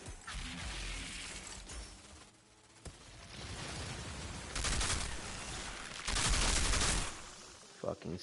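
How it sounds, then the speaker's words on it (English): Enemy snipers fire on the player in the Outriders video game, with bursts of shots and mechanical rattles over a steady wash of battle noise and a few sharp cracks. A voice can be heard under the gunfire. "What the fuck are they shooting at me?"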